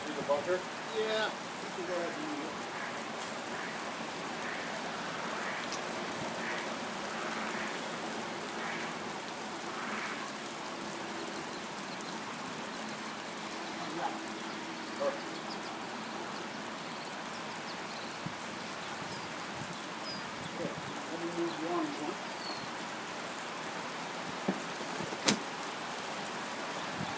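Rain falling steadily outdoors on a golf course, a continuous hiss of drops on surfaces with occasional louder patters and taps.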